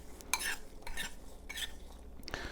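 A spoon stirs oiled, seasoned potatoes in a bowl for home fries with soft, close scraping strokes in repeated bursts, fairly quiet and without talk.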